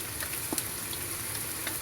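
Plantain fries in a pan over low heat, giving a soft, steady sizzle with faint crackles and a few small pops, heard alone and fairly quiet.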